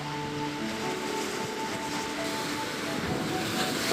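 Sea waves roll and swell near a small harbor where women divers work, a continuous steady wash of surf with wind noise, close and even throughout.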